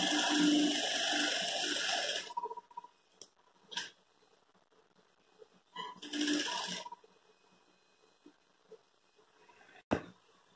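Sewing machine running briefly to stitch a seam on a kitchen hand towel, a close burst of whirring followed by a second short run, with small handling clicks between.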